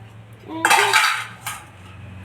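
Dishes and steel utensils clatter and clink as they are scrubbed and rinsed by hand, in short loud bursts close by, with a quieter knock after.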